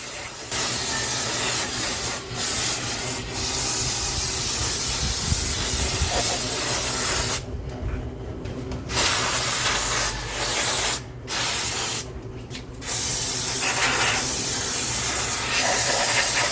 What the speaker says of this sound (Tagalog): So, ang unang gagawin natin, sprayan muna natin ng brake cleaner